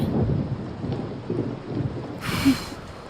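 Rain falls with rolling thunder in a movie scene: a low, continuous rumble fills the background, and a brighter hissing burst of rain swells near the end.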